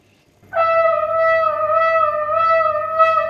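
A single sustained saxophone-like wind note, bent in pitch by changing the air stream, played alone and clearly after a brief silence, with a slight waver through its length.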